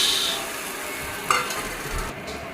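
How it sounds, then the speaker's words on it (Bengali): A paste being mixed into egg in a pan, a steady soft scraping stir over a faint sizzle, close and continuous with one brief clink. "এখন ভালো করে মিশিয়ে নেব ডিমের সঙ্গে পেস্টটা"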